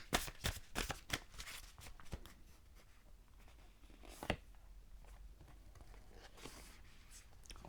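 Tarot cards shuffled by hand, a fast flurry of papery riffles and slaps at first, then softer continuous sliding and shuffling, close and quiet with no talk.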